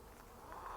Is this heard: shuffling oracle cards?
no